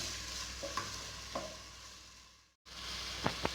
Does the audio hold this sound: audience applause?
no